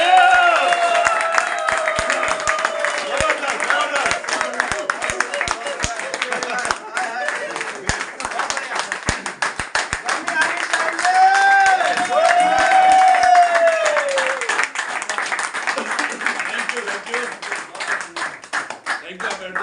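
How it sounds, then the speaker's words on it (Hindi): Loud clapping and applause from a crowd at a New Year celebration gathering, dense and continuous throughout, with some voices mixed in. "तो जोरदार तालियां उनका मिस्टर विक्की वाले जी के लिए।"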